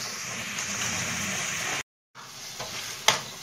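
Chicken gizzards and liver sautéing in a pan, a dense steady sizzle with stirring scrapes, briefly cut off and then resuming with a sharp clink.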